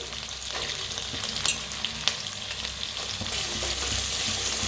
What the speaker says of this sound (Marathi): छान असं भाजून घेऊया